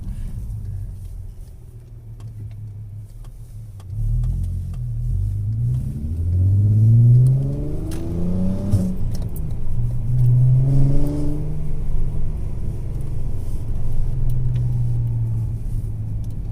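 A Volkswagen Golf R32 engine revs while driving, heard from inside the car: a low steady rumble swells as the engine climbs through several rising revs, dips between gears, then settles back into a constant drone.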